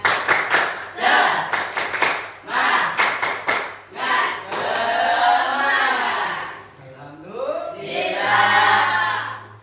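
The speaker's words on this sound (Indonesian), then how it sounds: "Tepuk semangat." Classroom group spirit clap, the Indonesian tepuk semangat, performed by students and led by a teacher: bursts of rhythmic unison hand claps alternate with chanted voices, loud and close, ending in sustained group vocalizing.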